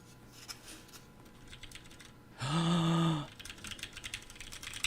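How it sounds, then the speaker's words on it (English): Keys tapped on a new mechanical keyboard, close and crisp clicks in quick bursts, broken in the middle by a brief loud humming tone before the clicking resumes. "Can I test the keyboard?"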